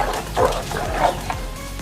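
A bulldog and a Dogo Argentino fighting: a couple of short, close barks and growling yelps in quick succession over a brief, busy scuffle, with no talking.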